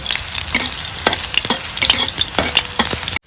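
Flowers fry in ghee in a pan, a close, continuous crackling sizzle broken by light stirring knocks, ending abruptly.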